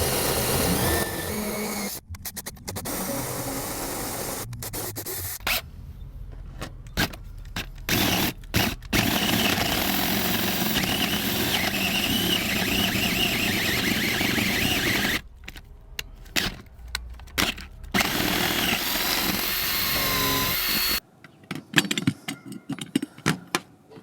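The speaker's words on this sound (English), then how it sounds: "I'm using a 1 1/8 inch bit to drill a hole through here, and I'm going to run the drill in reverse" A power drill with a 1 1/8 inch bit runs in reverse, boring a hole through house siding beside an outdoor faucet. The loud, steady grinding whir continues close up with a few brief pauses and cuts out near the end.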